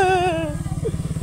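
Motorcycle running on a road, its steady low engine pulse continuing close by as a higher whine fades out partway through; brief and loud.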